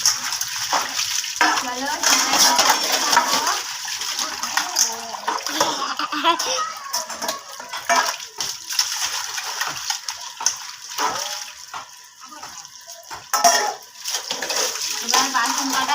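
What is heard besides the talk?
washing dishes with running water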